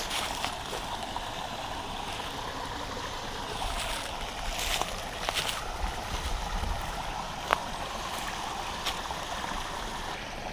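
A creek near a ram pump flows in a steady, broad rush of water, close and even, with a few faint splashes and clicks and no talk.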